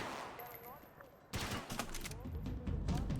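Gunfire in the Max Payne 3 video game: a dense burst of shots erupts after a quieter stretch and keeps rattling on, loud and close, with a voice talking over the action.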